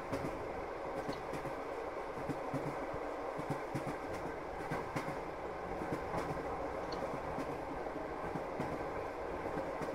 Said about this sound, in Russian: Это, оказывается, даже не поезд, а электричка.